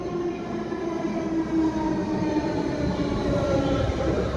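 A Delhi Metro train slowing as it pulls into a station, a steady close rumble of wheels and motors with a faint high whine, continuous and fairly loud with no talk.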